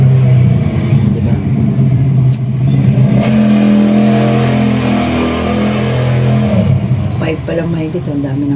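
Motorbikes on a road in the early morning: loud, continuous engine drone with shifting revving tones as vehicles pass close by, while people talk over the traffic.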